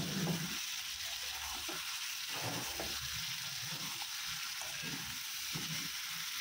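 Rita fish pieces sizzle and fry in a pan while being stirred, a steady hiss with intermittent scraping strokes of the spatula, close and moderately quiet.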